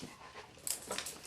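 A dog pants in quick, faint, breathy bursts close by, with a couple of sharper huffs near the end and no talking over it.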